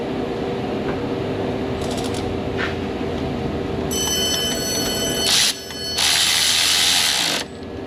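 A ratchet wrench tightens the bracket bolt of a car's AC condenser in a repair shop, giving rapid metallic clicking in bursts with brief pauses, close up, with a faint hum behind.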